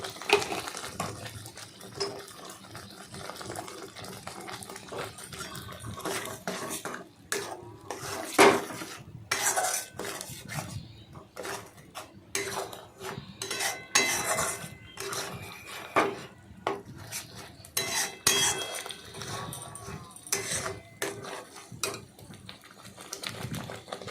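Onions with turmeric are stirred in a pan, and a utensil scrapes and clinks against the metal in irregular bursts. The stirring sounds close but fairly quiet, with no one speaking.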